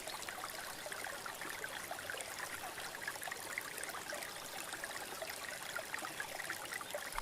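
River stream flowing in a calm nature setting, a soft continuous watery rush with fine trickling detail, steady and fairly faint, no voices.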